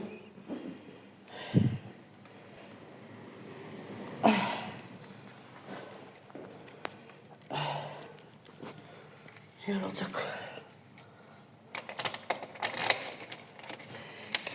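Keys jingle and rattle in bursts close by, mixed with rustling, shuffling movement and soft background noise.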